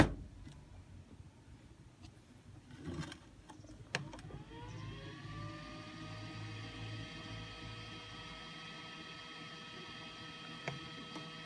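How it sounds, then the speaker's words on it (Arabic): Small cooling fan whirring steadily inside a Hitachi cordless screwdriver battery charger during charging, starting after a few seconds with a rising tone and then a constant hum with faint clicks, close and alone. "لأن المروحة شغالة، فالمروحة لا تشتغل إلا أثناء الشحن."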